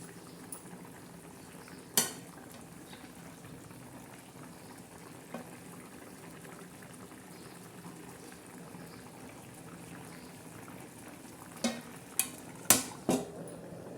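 An onion and green chili curry with peanuts bubbles gently under a lid, a low steady simmering hiss close by, broken by a few sharp clinks and knocks near the end, with no voices.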